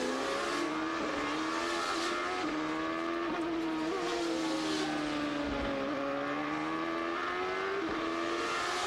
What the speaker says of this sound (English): Saw Bourdais really slipping out, trying to put the power down, leaving clearways, using every inch of road as the tires get to the end of this stint